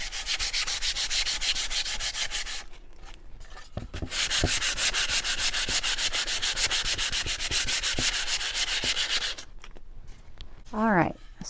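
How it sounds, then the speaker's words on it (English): Sandpaper scrapes back and forth over wooden snowman shelf pieces in steady, rapid one-direction strokes, loud and close, with brief pauses between passes and a short zipper-like rub near the end. "But typically I sand in one direction."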